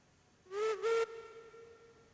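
Steam locomotive whistle on a Cooke Mogul in the railroad game Railroads Online, two short loud blasts close together, the second slightly longer, with a low hiss lingering afterward.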